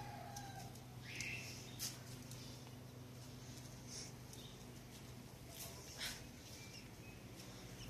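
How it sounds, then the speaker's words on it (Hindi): Chicks and hens clucking and cheeping under a grapevine's shade, scattered short calls over a soft steady background hum, fairly faint and distant. "देखिए हमारी चिक्स यहाँ पे, ये यहाँ पे अंगूरों की बेल की छांव में खेल रहे हैं"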